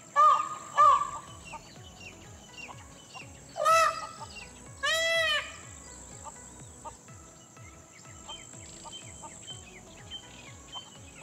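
A flock of peacocks forages nearby in the Aravalli hills and Thar desert, giving a few loud, harsh honking calls early on over a steady pulsing chorus of insects and crickets.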